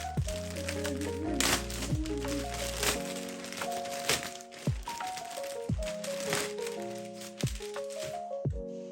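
A foil wrapper on an Etheron TCG founder pack crinkles and cracks as it is torn open, with irregular close crackles and snaps continuing throughout, with background music and some voices under it.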